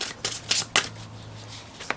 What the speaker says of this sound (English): I love to shuffle them all together.